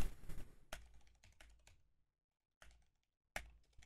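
Someone types a password on a computer keyboard: a few quick clusters of crisp keystrokes, close and fairly quiet, with brief silent gaps between bursts.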